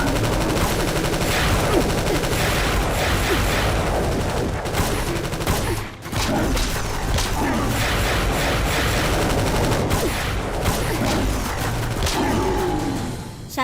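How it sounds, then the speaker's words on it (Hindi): Loud, dense machine-gun and rifle fire rattles almost without pause in an action movie battle scene, dropping out briefly once before the barrage resumes, layered with booms and roaring effects. "फायरिंग शुरू करो।"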